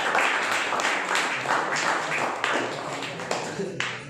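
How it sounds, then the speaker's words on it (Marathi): An audience claps at a Marathi speech event: a sustained patter of many hands, fairly close and moderately loud, thinning toward the end into a few separate claps. "टाळ्या वाजवा."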